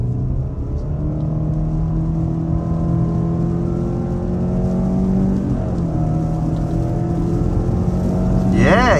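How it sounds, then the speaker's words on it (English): A 2023 Subaru Outback Onyx Edition accelerating hard while merging onto a highway, a steady engine drone with rising tonal whine and road noise heard from inside the cabin. "we can try merging onto this highway on the gas."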